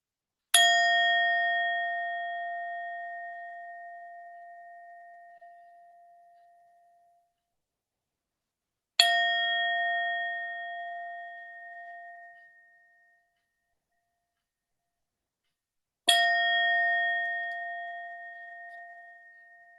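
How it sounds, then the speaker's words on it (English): A singing bowl is struck three times to open a Sunday celebration service, each clear ringing tone swelling then fading slowly over several seconds before the next strike, alone in a quiet room. "Let us open our celebration service by ringing the bowl."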